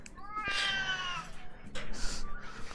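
A pet cat meows close by, a couple of clear, drawn-out calls with a short pause between them, loud against quiet room sound.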